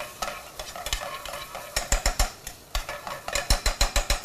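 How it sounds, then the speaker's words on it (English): Spices with turmeric dry frying in a hot pan, a faint sizzle under rapid rhythmic scraping and tapping of a utensil that speeds into a regular beat toward the end, close and loud with no talking. "So turn the heat up again. And we can almost start to dry fry this."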